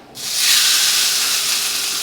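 A New York strip steak sizzles loudly in a hot cast iron pan, a steady bright hiss that bursts in sharply as the meat hits the surface and holds close and constant.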